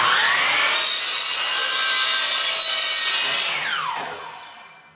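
A miter saw cuts through an 8-inch wooden board with a loud, close, high whining buzz that holds steady, then winds down and fades as the blade slows.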